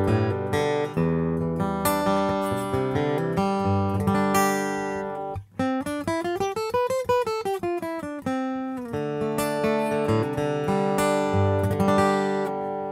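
Acoustic guitar heard purely through its microphone channel on a Stage Pro Anthem pickup system, strummed chords with a rising and falling arpeggiated run in the middle, steady and close with no talking.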